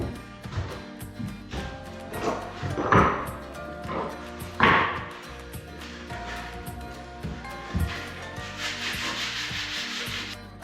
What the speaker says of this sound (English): Alright, so back to the rubbing down.